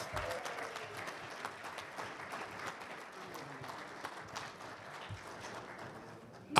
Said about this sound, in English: Give Julie a nice round of applause.